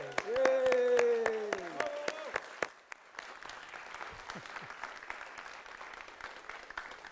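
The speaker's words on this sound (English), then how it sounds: "Can we give Holly a round of applause?" Audience applause at the closing of an evaluation project conference: a voice rings out over the opening claps, then scattered, sharp hand claps settle into a steady, moderately loud wash of clapping that continues to the end.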